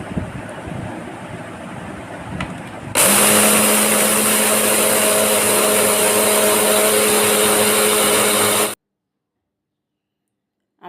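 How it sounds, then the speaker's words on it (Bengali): A kitchen blender grinding soaked, husked black gram (mash kalai dal) with a little water: after a few seconds of quiet room noise, a loud steady whirring roar starts abruptly, runs for about six seconds, then cuts off into silence. "এখন আমি ব্লেন্ডারে দিয়ে দিচ্ছি।"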